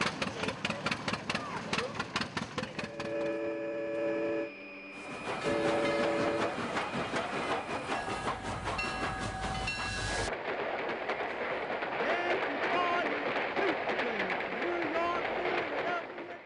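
A rhythmic clatter of railroad cars rolls past with a horn-like tonal blare and metallic squeals, loud and steady throughout.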